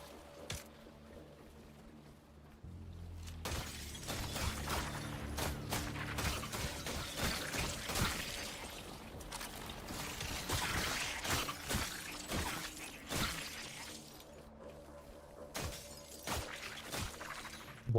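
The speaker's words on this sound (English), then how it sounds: "Why does that sound like breaking glass?" Glass shattering and breaking inside the video game The Last Caretaker, a dense run of crashing, tinkling impacts that continues for most of the stretch over a low droning game background, loud and close.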